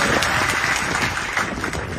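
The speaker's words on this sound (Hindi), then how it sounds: "ताली बजा के बताओ" Crowd at a political election rally in Chhindwara clapping and cheering, a dense, steady wash of applause with some noisy peaks, close and loud throughout.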